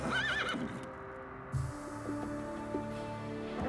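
Horses neigh and whinny near a frontier fur-trading post at Rocky Mountain House. A high, wavering neigh comes first, and softer snorts and a brief hoof clop follow over a low, steady rumble, with no talking.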